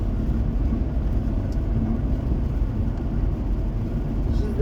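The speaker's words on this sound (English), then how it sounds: "I'm on a freeway." Freeway car traffic, a loud continuous low rumble and road roar that holds steady without breaks throughout.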